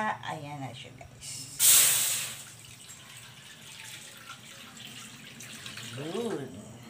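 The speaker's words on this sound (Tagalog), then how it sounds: "ilagay na natin yung ating gata" Coconut milk (gata) is poured into a cooking pot for ginataang sitaw at ampalaya, giving a brief loud hissing splash followed by softer liquid noise, with a person talking over parts of it.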